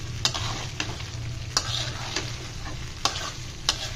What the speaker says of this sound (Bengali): ফ্রাই করে ফেললাম।